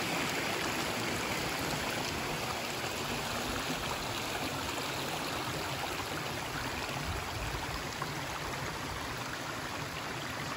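A river flowing through a valley in the Mt. Aso caldera in Kumamoto, Japan, a constant dense rushing of water that holds steady and loud for the whole stretch.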